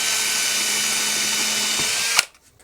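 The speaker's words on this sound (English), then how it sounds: "I'm going to drill a hole right down through the fret slot" Power drill boring a hole down through the fret slot of a guitar neck for a custom Telecaster, a steady high whir of the bit in wood that stops abruptly near the end.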